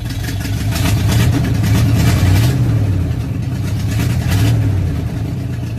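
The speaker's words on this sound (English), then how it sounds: "it's sitting here idle and it's only running on one side." An old carbureted Ford engine idles roughly while running on only one side, giving a steady, loud, close low rumble with a slightly uneven, loping pulse throughout.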